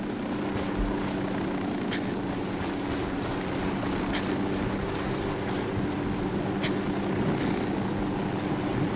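A helicopter in the video game Ghost Recon Wildlands hovers overhead, a continuous loud droning rotor throb with steady harmonic hum lasting throughout, no voices heard.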